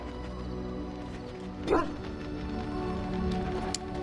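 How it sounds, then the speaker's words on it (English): A single short dog bark from the hound companion in the Dragon Age: Origins video game, sounding over a steady low musical score and in-game ambience, fairly close but not loud. "What are you barking at, boy?"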